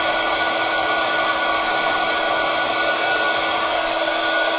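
A heat tool blows continuously to melt embossing powder on a flower card, a loud, steady hairdryer-like whoosh of rushing air that holds unchanged throughout with no voices.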